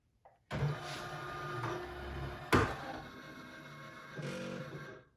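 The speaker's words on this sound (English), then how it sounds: "Now my machine is going to calibrate, which it does every time I start embroidery." A computerized embroidery machine runs its start-up calibration, giving a motorized whirring and grinding hum with a sharp clunk midway and shifting mechanical tones, close and fairly quiet, with no talking.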